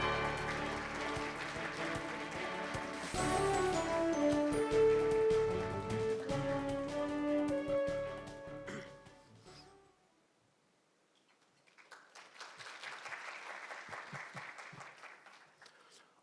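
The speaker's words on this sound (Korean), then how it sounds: "여러분 뜨거운 박수로 환영해 주시기 바랍니다" An audience at a scholarship foundation's 20th-anniversary alumni evening applauds to welcome a speaker onto the stage; music plays first, then after a brief lull a moderate wave of clapping rises and continues.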